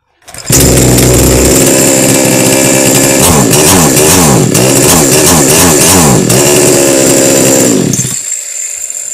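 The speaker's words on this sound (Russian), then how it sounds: "Пила заводится" A chainsaw engine catches and roars to life during carburetor adjustment, running loud and close with wavering revs for several seconds before cutting off abruptly near the end.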